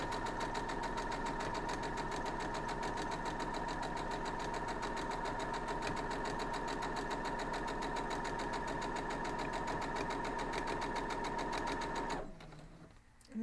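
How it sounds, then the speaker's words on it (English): Sewing machine stitching a wild goose chase quilt block, a steady fast mechanical whir with a rapid needle rhythm running continuously for about twelve seconds, then cutting off abruptly into near silence. "And I'm just going to sew down there."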